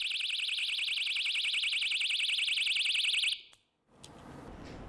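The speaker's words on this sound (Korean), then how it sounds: "그녀는 호신용 경보기를 들고 다닙니다" A handheld personal self-defense alarm shrieks with a loud, rapidly warbling electronic siren, sounding continuously for over three seconds before cutting off abruptly into quiet room noise.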